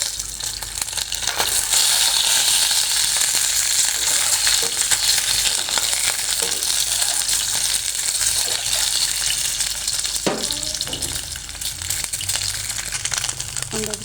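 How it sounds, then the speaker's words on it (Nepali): Eggs frying in hot oil in a pan for egg biryani, giving a steady, close sizzle and crackle that runs the whole length with a few brief louder spatters, no talking. "अब त्यसमा हामी अन्डा हाल्छौँ फ्राई गर्नको लागि"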